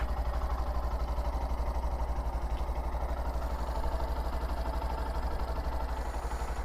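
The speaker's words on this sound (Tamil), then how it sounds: "கேட்டு பாருங்கள் என்ஜின் நோட் எப்படி இருக்குன்னு." A 2025 Honda Shine 100 motorcycle engine idling steadily nearby, a low, even putter that holds constant throughout with no voices.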